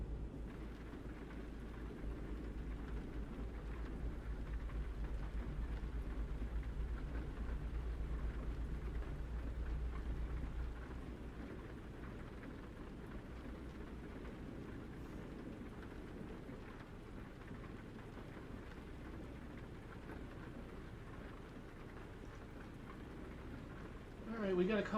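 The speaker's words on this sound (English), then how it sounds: "Hopefully the rain will stop" Steady rain falls in a truck-driving game during a long haul from Moab, Utah toward Cheyenne, Wyoming: a soft, continuous wash over a low rumble that eases partway through, faint and even.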